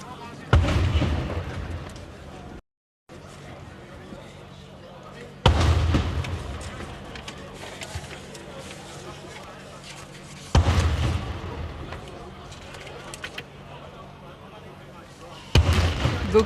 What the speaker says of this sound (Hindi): suivi des 21 coups de canon